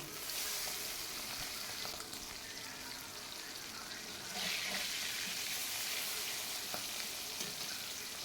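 Bata fish frying in hot oil for a fish curry, a steady dense sizzle with crackling and spitting that swells slightly midway, close and loud with no talking.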